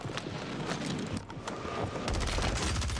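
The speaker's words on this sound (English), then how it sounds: "let's see the fastest SMG in Warzone" Rapid automatic bursts from the FJX Horus SMG in Warzone crackle over game ambience, with a louder, denser stream of shots in the final second and no talking.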